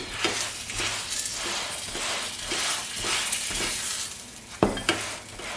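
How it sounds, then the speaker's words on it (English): A chapati cooking in oil on a hot pan while being spun around: a continuous close sizzle with regular swishing pulses as the flatbread turns, and a couple of sharper knocks near the end. "So you take oil, put underneath, and then now spin like this to get it cooking."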